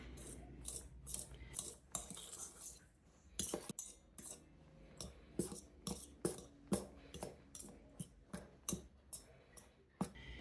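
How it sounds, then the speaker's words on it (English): Dry ingredients for a keto double chocolate pound cake, including salt, being mixed together in a bowl: a steady run of sharp utensil scrapes and clinks against the bowl, close and fairly regular, with no talk. "So I'm just going to go ahead and mix all that together."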